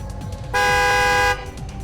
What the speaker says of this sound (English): The honking of a horn.